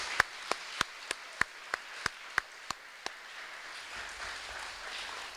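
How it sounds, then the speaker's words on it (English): Slow, evenly spaced claps ring out, about ten single hand claps at a steady beat in a quiet room as police officers are applauded, then they stop and only faint background noise remains. "a big round of applause for all our police officers here"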